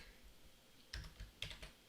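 Keys on a computer keyboard clatter in two quiet little bursts near the end, a few crisp clicks each, close and alone after a near-silent start.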